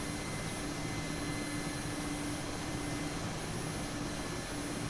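Mi-8 helicopter in DCS sitting on the ground after touchdown, its engines and rotor giving a steady, loud, unbroken whine and roar with a low hum beneath, no voices over it.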